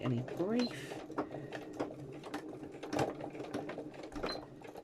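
Sewing machine running a few stitches over a nylon zip on a fabric bag, a rapid mechanical whir and clatter in short runs, with someone talking over it.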